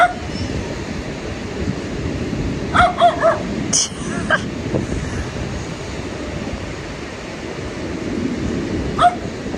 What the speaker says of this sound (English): These are the two brother dogs.